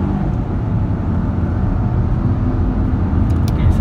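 A Proton X50 1.5TGDi Flagship pulls away hard from a standstill, with a loud, continuous low engine and road roar filling the cabin.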